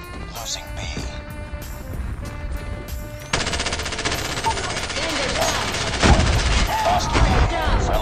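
QXR gun firing in the mobile shooter game Call of Duty Mobile: sparse shots at first, then long rapid automatic bursts, loud and close, with a louder blast near the end and a voice speaking over the gunfire.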